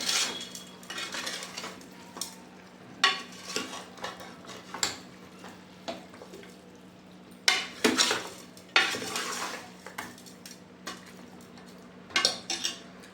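A spatula clatters and scrapes in a pan in irregular bursts over a low sizzle as chicken masala fries for a Mandya-style chicken curry.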